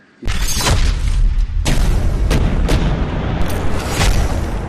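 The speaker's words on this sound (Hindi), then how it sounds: "फटेगा ना, बहुत धमाका आवाज होगा और बहुत तेज होगा" Loud booming blasts of homemade bombs with sharp cracking bursts, several explosions in quick succession over a continuous roaring rumble, close and powerful.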